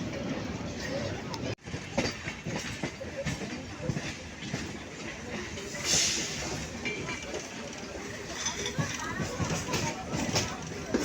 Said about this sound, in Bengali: শিয়ালদা হলদিবাড়ি দার্জিলিং মেল।